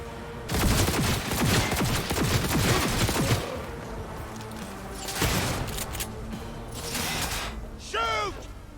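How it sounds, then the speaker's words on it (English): Gunfire in Cyberpunk 2077: sustained bursts of rapid automatic fire, loud and dense, with a pause, then another burst and a whooshing effect near the end. "I am taking fire!"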